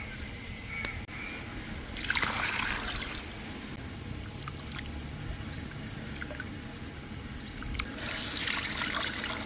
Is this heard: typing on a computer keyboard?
no